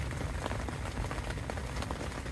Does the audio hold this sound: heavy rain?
yes